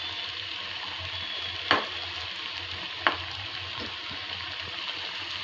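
Homemade kurkure-style snack pieces frying in hot oil give a steady, moderately loud sizzle, broken by two sharp pops or spatters and a fainter third near the end.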